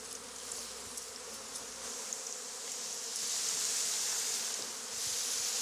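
Honeybees buzz steadily around a branch as the last few bees of a swarm are being collected, a dense continuous hum that swells slightly louder partway through, with no voices.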